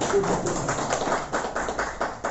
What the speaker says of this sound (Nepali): त्यसको लागि युवा संयोजकलाई भने पनि ताली बजाइदिनु।